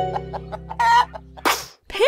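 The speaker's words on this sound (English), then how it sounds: "Hen." A hen clucks in a few short bursts over a low hum, then a sharp squawking call near the end, loud and close.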